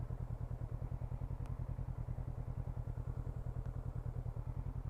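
A Honda NX500 motorcycle runs steadily along a road near a waterfall entrance, its engine giving a continuous rhythmic low throb close by, with two faint brief ticks on top and no talking.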